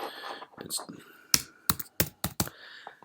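Someone types on a computer keyboard. A soft voice comes first, then a quick run of sharp, close key clicks in uneven bursts.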